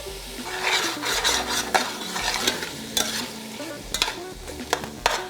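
Seasoned chicken sears in a hot pan for white chicken chili, sizzling steadily while a utensil stirs and scrapes against the metal in irregular bursts, close up, with no voices.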